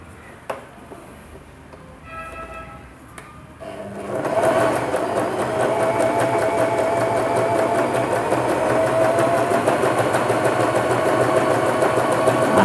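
A Janome 3022 sewing machine running a straight seam sets up a steady, close mechanical whir with a rapid rhythmic stitch pulse, starting after a few quiet clicks and continuing loudly to the end with no talking.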